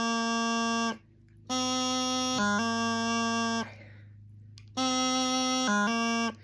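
A reedy bagpipe practice chanter plays a roll-up, held notes broken by quick grace-note dips, two short phrases separated by a pause, with no talking.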